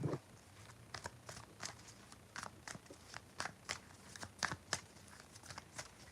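Tarot cards being shuffled by hand, a quiet series of crisp riffling snaps and flicks in an irregular rhythm, close and soft, with no talking.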